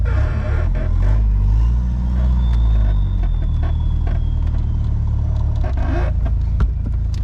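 A Volkswagen Caddy Mk1 pickup drives after a rebuild, its engine rumbling loudly inside the cab with a brief rising whine and scattered clunks and rattles over the steady road drone.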